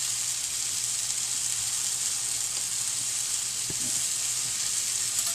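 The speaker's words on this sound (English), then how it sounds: "As you can see, the sweet potatoes are now browning on each side." Sweet potato pieces fry in a pan with a steady, soft hiss of oil, a brief faint tap near the end and no voices.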